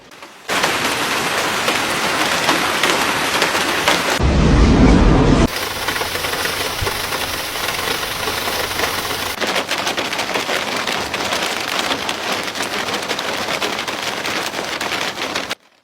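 A heavy rain and hail storm in China pours down in a dense, continuous roar, with a deep rumble of thunder partway through. The downpour is loud and steady throughout, with no talk.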